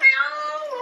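A kitten named Luna lets out a single close, high, drawn-out meow that slides downward in pitch during its first bath.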